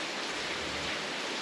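Rain falling outdoors in a rural farming setting, a dense, even hiss of steady downpour filling the brief moment without pause or voices.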